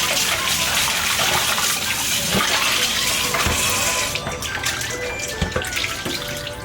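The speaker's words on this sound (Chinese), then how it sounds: "就用清水冲洗干净，多洗2遍，直到水完全清凉为止" Steady running tap water splashes and gushes as octopus is rinsed clean after being rubbed with starch, a continuous close wash with a slight change in the flow partway through.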